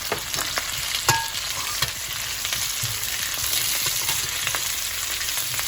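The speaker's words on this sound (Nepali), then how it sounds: "अब यो सबैलाई 2 मिनेट जस्तो फ्राई गरेपछि मैले प्याज राख्दैछु" Onions frying in a pan with green and red chillies, a steady loud sizzle with occasional stirring scrapes and clicks, no voices.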